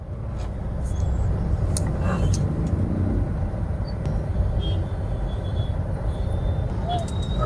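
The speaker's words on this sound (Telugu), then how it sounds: "ఎంత ట్రాఫిక్ ఉందిరా దేవుడా" Steady road traffic on a busy Saturday evening near Karmanghat Hanuman Temple, a continuous roar of cars, trucks and buses with brief brake hisses and distant horns, voices murmuring faintly beneath.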